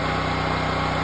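Home standby generator engine running with a steady, rapid mechanical throb and strong low hum, loud and close, with no voices.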